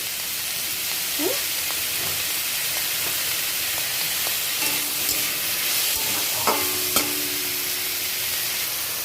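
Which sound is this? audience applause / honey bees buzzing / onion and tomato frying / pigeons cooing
onion and tomato frying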